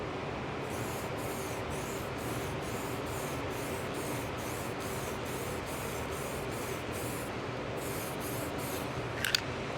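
An aerosol can sprays Purple 3 base coat paint in a steady, close hiss, with a rapid pulsing rhythm as the nozzle sweeps back and forth, ending in a brief sharp spurt.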